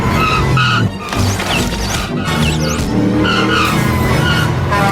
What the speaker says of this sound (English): It all starts with her driving recklessly,